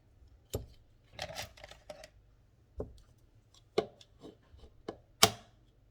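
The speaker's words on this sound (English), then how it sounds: "Those 2 eggs cracked in there." Two eggs cracked by hand into a bowl while making salmon croquettes, giving a series of sharp taps and cracks with small shell crunches in between, close and clear with no talking.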